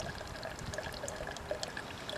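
Water trickling and dripping while being collected outdoors on a camping trip, a faint steady babble with small bright droplet plinks, close and alone.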